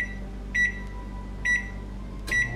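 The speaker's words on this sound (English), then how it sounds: "I'm setting the oven at 375." An oven's control panel beeping while the temperature is set to 375: three short, clear electronic beeps spaced about a second apart over a steady low appliance hum, with no talking.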